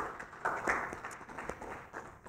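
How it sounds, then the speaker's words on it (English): Audience applause at a poetry talk event, brief scattered clapping that stays moderate and fairly close, with some background murmur. "so give David a round of applause"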